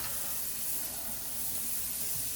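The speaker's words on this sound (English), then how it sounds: "we're going to start by putting 1 stick of butter in, and we're going to actually bring this, melt this down" A stick of butter melting in a hot cast iron skillet makes a constant soft, even hiss and sizzle with no voice over it.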